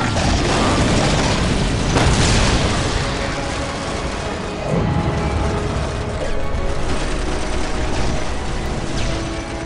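Booms, blasts and mechanical clatter of a Warhammer 40,000: Dawn of War battle fill the scene continuously, with heavy artillery-like impacts layered over dense combat noise and a faint voice line in the mix.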